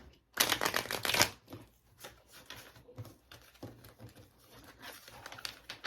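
Tarot love cards shuffled close to the mic: a loud riffle burst at the start, then softer, scattered card flicks and taps continuing in a quieter room.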